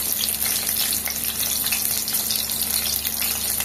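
Onions frying in hot oil, a loud close crackling sizzle that stays constant and bubbly throughout, with no talk over it.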